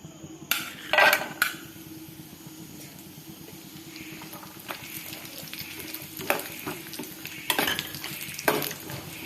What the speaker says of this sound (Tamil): ட்ரை நட்ஸ் எல்லாம் நெய்யில் போட்டு ஃப்ரை பண்ணி எடுத்துக்கலாம்